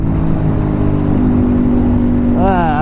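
A 2019 Ducati Supersport motorcycle engine pulls hard at around 7,000 RPM, a loud, steady close-up drone with wind rush that rises in pitch near the end, a voice talking over it.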